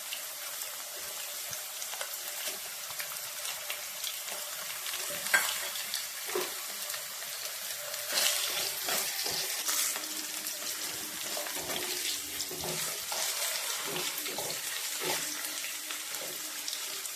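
Thinly sliced rounds of potato fry steadily in hot coconut oil in a pan, a continuous close sizzle and crackle with occasional stirring scrapes and bursts.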